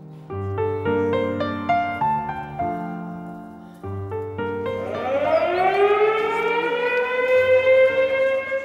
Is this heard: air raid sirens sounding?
yes